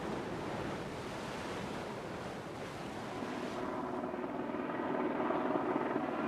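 Helicopters and boats crowd around the tall ship Danmark at sea, giving a steady rotor rumble mixed with wind buffeting and washing water.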